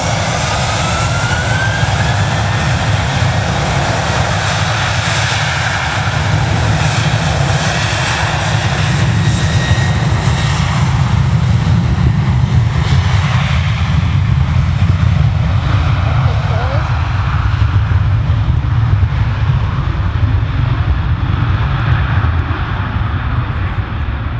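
Aircraft engines roar steadily at Manchester Airport, a loud continuous jet drone with broadband rush throughout, as planes move near the runway; some voices mingle faintly under the engine noise.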